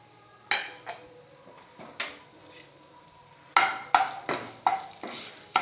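Bay leaves, dried chillies and five-spice seeds tempering in a little oil in a karahi, heard as a series of clattering stirs and spoon scrapes with a soft sizzle underneath, the knocks louder and quicker toward the end.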